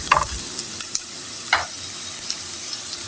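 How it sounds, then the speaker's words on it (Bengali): Onions and garlic browning in hot oil give a steady sizzle, broken by a few sharp stirring scrapes near the start and middle, close and fairly loud. "আগে ব্রাউন করে ভেজে নিই"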